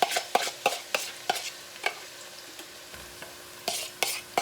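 Vegetables sauté in extra virgin olive oil in a pan for a meatless chili, a faint sizzle broken by a series of sharp spoon taps and scrapes at an irregular pace, close and quiet, with no one speaking.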